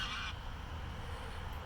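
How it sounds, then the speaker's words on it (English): Geese honking alongside ducks outdoors, a faint burst of calls near the start that gives way to low, steady background noise. "that's some geese, by the way,"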